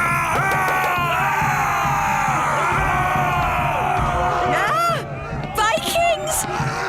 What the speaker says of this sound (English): Vikings! Running around and shouting.